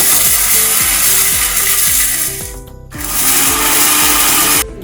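A 1000-watt mixer grinder with a 1500 ml jar grinds sambar powder spices, a loud steady whir with rhythmic knocking and a brief dip before the motor stops near the end.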